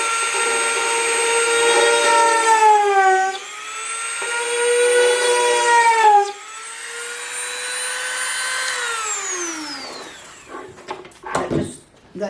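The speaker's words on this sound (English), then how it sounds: "I take my little Dremel with the little drill here" A small Dremel rotary tool with a small drill bit whines loudly at high speed, its pitch dipping and rising under load as it drills, then winding down near the end.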